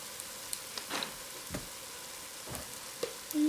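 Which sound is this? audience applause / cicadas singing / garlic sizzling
garlic sizzling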